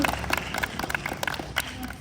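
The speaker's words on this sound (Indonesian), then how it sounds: "Tepuk tangan." A classroom of students gives a short burst of uneven, brisk hand clapping during a physical education lesson on the long jump, with a faint voice underneath.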